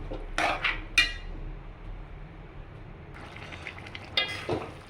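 A spoon stirs white chickpea masala curry in a pan, with short scraping clinks at the start and again near the end over a steady low background.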